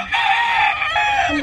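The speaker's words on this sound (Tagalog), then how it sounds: "Ang dami nilang manok." Several chickens cluck and a rooster crows nearby on a farm in Albay, Philippines, loud and continuous, with the calls overlapping.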